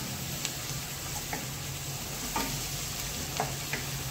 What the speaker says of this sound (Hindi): धनिया को भी अच्छे से फ्राई करेंगे ऑयल में।